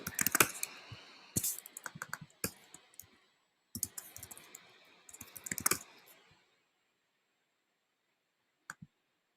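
Someone types a password on a computer keyboard to log in, quick clustered keystrokes clattering close and clear for several seconds, then silence broken by a couple of isolated clicks.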